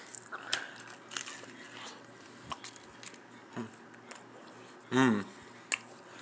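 Crunchy bites into a folded tortilla pizza taco, a few sharp crackles spread out in short bursts, with one louder, longer crunch near the end, all close up and fairly quiet.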